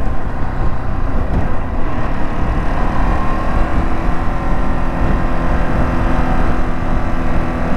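A Ducati Desert X motorcycle cruises on a highway on Pirelli Scorpion STR tires, a loud, steady roar of engine and rushing wind that stays constant throughout with no talking.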